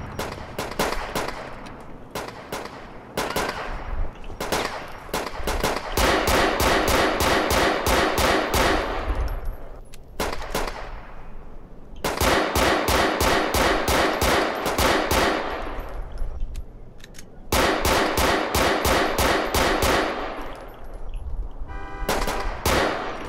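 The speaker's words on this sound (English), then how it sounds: "we have shots fired." GTA IV gunfire, long rapid bursts of automatic shots repeating in several loud volleys separated by brief pauses, with a horn-like tone mixed in.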